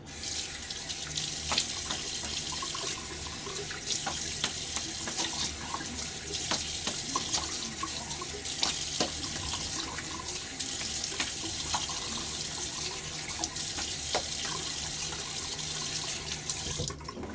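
Water runs steadily from a bathroom tap into a sink for rinsing after a wet shave, a constant close splashing flow with small clicks on top.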